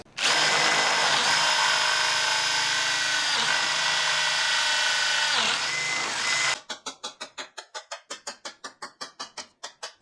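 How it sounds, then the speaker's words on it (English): A power drill bores a hole through wood held in a chairmaking jig, whining loudly and steadily for several seconds before stopping, followed by a run of rapid, regular clicks. "and drill the other side,"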